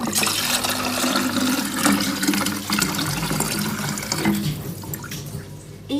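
Homemade olive oil poured into a bottle, making a continuous gurgling, splashing liquid sound that is fairly close and steady and eases slightly toward the end.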